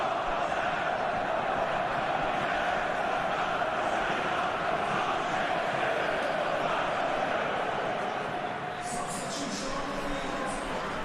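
A packed stadium crowd at the Qatar 2022 World Cup match between Tunisia and Australia gives a dense, continuous roar, loud and steady throughout, with a voice faintly audible over it.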